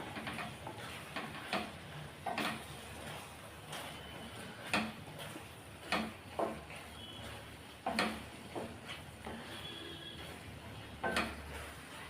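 Intermittent scraping and clinking of a spoon stirring thick egg curry in a pan, with soft sizzling underneath and periodic sharp taps against the metal.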